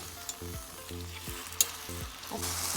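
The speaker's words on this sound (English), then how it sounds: "With just a little bit of salt and a pinch of black pepper, I'm gonna fry the shrimp" Shrimp seasoned with salt and black pepper frying in a pan, a steady close sizzle with a few clinks of a utensil against the pan as the pieces are stirred.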